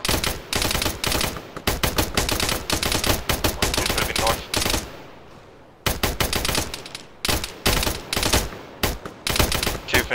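Dense gunfire in the Arma military shooter during a ShackTac night operation: rapid, loud automatic bursts and volleys in long strings, broken by a brief lull before the shooting resumes.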